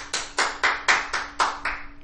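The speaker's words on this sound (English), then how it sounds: "Just sitting over there clapping and stuff." Several people clap together indoors in a short burst of about seven sharp, evenly spaced claps, fairly close and clear with no talking.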